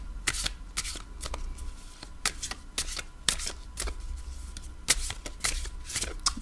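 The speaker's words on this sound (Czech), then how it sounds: "Zamíchám si karty." Tarot cards are shuffled by hand in quick, crisp riffles and slaps, repeated in bursts over a faint background hum, close to the microphone with no talk.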